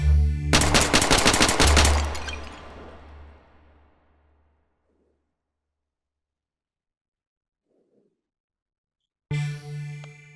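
Rapid semi-automatic gunfire from a firearm in the VR shooting game H3VR, a dense burst of sharp shots lasting about two seconds with a fading tail, then near silence before another loud report at the end.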